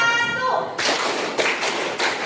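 Children in a classroom clapping game clap together in a few loud, sharp bursts, each clap closely following the last. A voice is heard just before the clapping starts.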